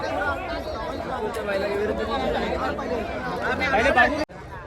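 Dense crowd chatter fills the open ground at a bullock cart race in Khidkali, a steady babble of many voices close by that swells toward the end and then cuts off abruptly.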